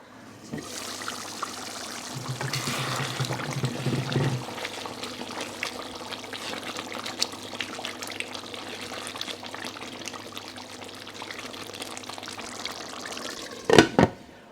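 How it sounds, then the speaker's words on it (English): Keema aloo curry of minced meat and potato, cooked on high heat in a thick sauce, simmering under a lid with a steady close bubbling and hissing, a brief clatter near the end. "I'm gonna put the lid on and let it simmer for a good 20 minutes"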